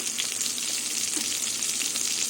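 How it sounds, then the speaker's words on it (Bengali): Eggplant pieces fry in hot mustard oil with a little turmeric, giving an even, bubbling sizzle that stays close and steady throughout, with no voices. "তেল গরম হয়ে গেছে আমি বেগুনগুলো ভেজে নেব"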